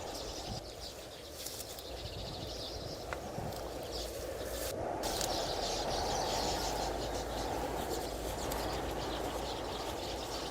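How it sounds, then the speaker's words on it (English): Birds in their nesting homeland chirp and twitter in scattered calls once the wind dies down, with a steady airy background rush beneath them. "When the wind subsides, the birds celebrate with chirping and twittering."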